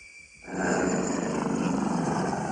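A French Army helicopter in flight, heard from on board as a steady, loud engine and rotor roar that swells in after a brief quieter moment and holds.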